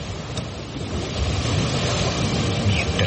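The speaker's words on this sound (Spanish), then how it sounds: "se desató una tormenta tan fuerte que las olas se metían en la barca" Storm-driven waves surge and crash against a small boat at sea, a dense, roaring wash of water with wind that swells louder after the first second and stays heavy and continuous, with no voices.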